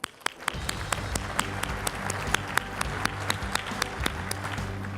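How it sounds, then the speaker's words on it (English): Conference keynote audience applauding steadily, a dense wash of clapping that swells quickly and holds at an even, fairly loud level with sharp individual claps standing out, no speech over it. "Please help me give a round of applause for Sam Basu."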